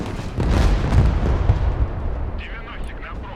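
Battlefield gunfire and heavy impacts strike an anti-aircraft system in the military strategy game Broken Arrow, a dense rumbling barrage of booms and bursts, loud and sustained, with a voice talking over it.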